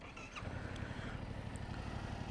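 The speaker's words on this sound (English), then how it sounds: "There's that stock exhaust that you guys do not like." A 2021 Yamaha MT-07 motorcycle with its stock exhaust runs with a steady low engine drone, fairly distant and muffled, continuous for a couple of seconds.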